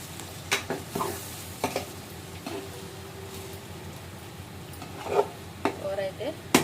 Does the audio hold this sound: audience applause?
no